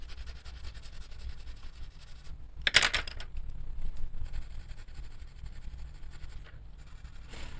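Colored pencils shading on paper produce a soft, steady, close scratching hiss, with one brief louder rustle partway through.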